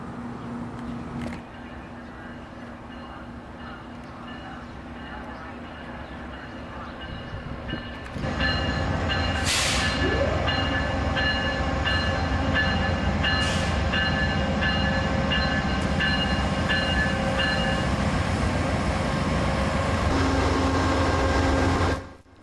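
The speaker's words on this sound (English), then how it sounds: "Oh, look, a train is rolling in." A train rolls into a station in Windsor, Ontario with a steady heavy rumble and rattling wheels, a couple of sharp high squeals or horn blasts sounding over the din.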